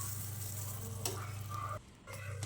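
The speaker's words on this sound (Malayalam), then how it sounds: "അപ്പോൾ വെള്ളം തിളച്ച് നമ്മൾ സേമിയ ഇടുകയാണ് കേട്ടോ." Vermicelli dropped into boiling water in a pan gives a soft, steady bubbling and sizzling hiss with a low hum underneath, briefly dipping quieter near the end, no talking.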